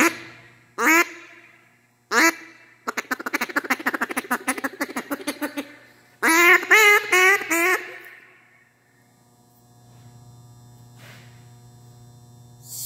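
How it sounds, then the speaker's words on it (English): A Duck Commander duck call blown in short bursts and a fast rapid quacking run, loud and close, with a steady mains hum underneath and a quiet tail at the end. "Duck Commander call."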